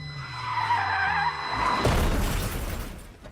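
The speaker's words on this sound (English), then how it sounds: "every time you drive after drinking, the music gets drowned out" A car skids with a long tire squeal and ends in a loud crash of shattering glass and metal, the squeal rising and then breaking into a noisy impact that fades over several seconds.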